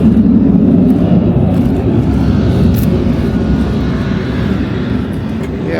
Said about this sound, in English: I think those are the U.S. Navy Hornets